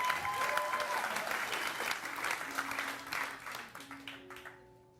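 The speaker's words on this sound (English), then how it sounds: "Give him some applause." A live audience applauds at an improvised puppet comedy show, a dense burst of clapping that is loud at first and gradually tapers off toward the end, with brief tones underneath.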